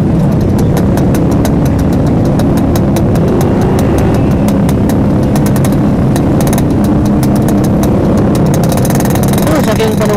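Motorcycles idle and rev in a packed, crowded Sunday-morning ride gathering at Cijapati, a dense steady engine drone with louder revs passing close, and voices talking beneath the roar.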